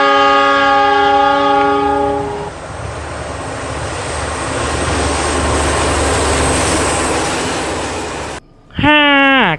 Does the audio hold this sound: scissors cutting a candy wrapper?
no